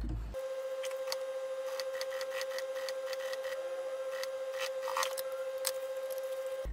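A sewing machine stitches along the edge of fabric for a small candy-style backpack, running steadily with a constant hum and quick, repeated mechanical ticks close by.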